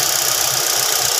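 A Ford Escape engine with a replaced surplus throttle body assembly runs steadily just after starting. The idle is loud, close and continuous, with a rough knocking texture.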